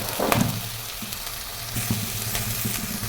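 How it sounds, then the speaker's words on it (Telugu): Garlic, green chilies and onions sizzling in a pan for gobi rice, a continuous close frying hiss with a few stirring scrapes and clinks. "తర్వాత అందులోనే పచ్చిమిర్చి ముక్కలు, ఉల్లిపాయలు ముక్కలు వేసి బాగా వేగనివ్వాలి."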